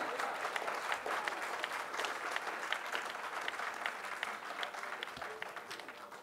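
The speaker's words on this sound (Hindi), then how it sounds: "तालियां कमजोर रह गई" Sustained applause from an audience at a Hindi comedy and satire poetry recital (kavi sammelan), a dense, steady patter of many hands clapping throughout, fairly close and loud, with no clear talk over it.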